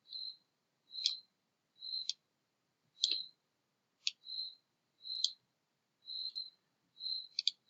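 Crisp single computer mouse clicks, some in quick doubles, repeat about once a second in a quiet room while shapes are dragged and resized in Microsoft Word.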